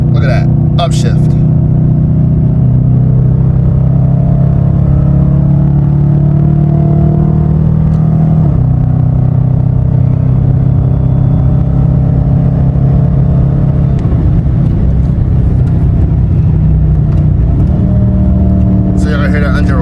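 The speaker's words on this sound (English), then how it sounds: "So you're gonna hear that engine roar." A car engine roaring steadily as it is shifted up through the gears with paddle shifters, with pitch steps at each shift; someone talks over the continuous engine drone.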